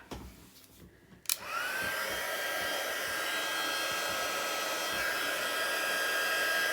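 A heat tool whirs on steadily after a click, blowing hot air to melt gold embossing powder, a continuous even blower noise close by with no talking.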